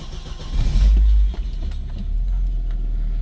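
An Audi S2 Avant that has sat unused for a few days cranks and fires up, its engine catching with a loud low surge and then settling into a steady, rumbling idle close by.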